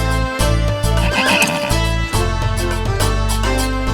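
A horse whinnies loudly and at length over a full, sustained musical score in a Hindi fantasy adventure series set in Kabul, the neigh rising and wavering before the music carries on alone.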